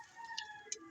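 Pet pigeons at home give a couple of faint, brief calls over a quiet steady hum, with no one talking.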